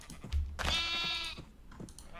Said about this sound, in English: You got a lot of pink sheep there, don't you?